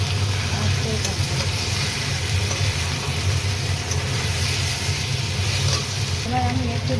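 Chicken pieces frying in a pan for kosa curry, a steady, loud sizzle running throughout with a low rumbling hum underneath and faint stirring scrapes.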